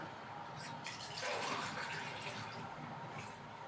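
Water pours steadily into a vessel for making syrup, a continuous splashing gush, close by and moderately loud, with no talking.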